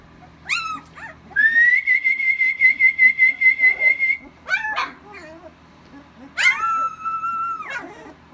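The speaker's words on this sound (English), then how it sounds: "All the barking and howling" Dogs whine and howl in long, rising, pitched cries with short yips between, close and loud, one drawn-out howl pulsing rhythmically in the middle.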